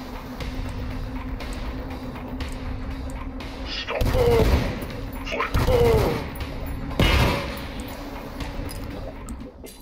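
Gunfire in the first-person shooter Dusk, several loud bursts of shots over a constant rumbling backdrop, with a voice talking at points.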